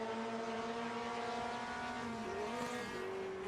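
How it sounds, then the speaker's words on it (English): A race car in the 1973 British F3 race, its engine briefly over-revving: a sustained engine drone with distinct harmonic tones that shift in pitch partway through, moderately quiet and with no talking. "Miller over-revved the engine slightly there."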